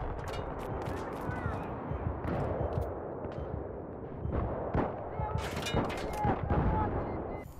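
Dense gunfire in Battlefield 3 on the Caspian Border map, with repeated sharp shots and heavy booming bursts crowding together throughout, loud and close with some distant rumble.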